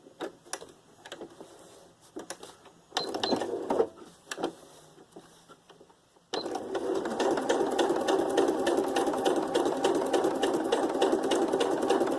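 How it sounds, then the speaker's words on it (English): A domestic sewing machine sews a straight stitch through paper tags: a few short bursts of stitching at first, then a steady rapid mechanical whir from about six seconds to the end, close and clear. "Now I'll go back to the straight stitch, make it larger again."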